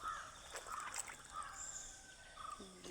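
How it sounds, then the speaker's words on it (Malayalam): Birds calling outdoors beside a fish pond, with several short chirping calls spread across a soft background hiss and a faint trickle of water; the calls are moderately distant and there is no talk. "കുറെ പക്ഷികളെ സൗണ്ടൊക്കെ കേൾക്കുന്നുണ്ട്."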